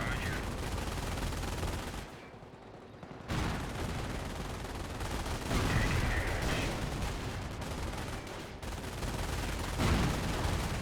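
Sustained automatic gunfire from a half-track in a Company of Heroes battle, loud and dense with a short dip, mixed with explosions and battlefield din under faint commentary.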